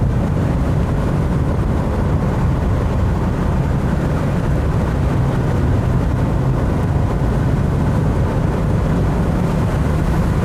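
A BMW 735i E32 driving on a country road under braking, giving a continuous loud rumble of road and engine noise that stays even throughout, with no talk.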